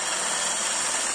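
A power drill bores a through hole in the centre of a plate, giving one continuous, steady whirring whine with no breaks or voices.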